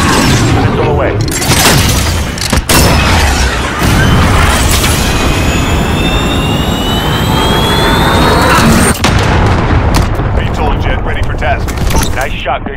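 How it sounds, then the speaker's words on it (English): A missile strike in Call of Duty Modern Warfare, heard as a dense, sustained roar with a whooshing, rising engine tone and sharp crashing impacts. It is loud throughout, with radio-style voices mixed in. "Missile away."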